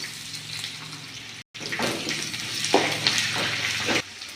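Onions with lentils, garlic, and green and dried chillies fry in a pan, giving a soft, steady sizzle with stirring clatter and a brief pause partway through.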